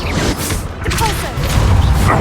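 A Depulso force spell strikes during the Hogwarts Legacy battle against Ranrock, giving a short, loud booming impact and crash amid ongoing combat rumble.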